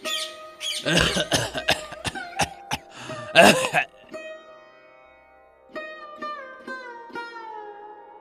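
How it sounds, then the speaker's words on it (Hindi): A person coughs and clears their throat repeatedly in harsh bursts, followed by a few faint high squeaky chirps. "आपको फिर से खांसी हो रही है।"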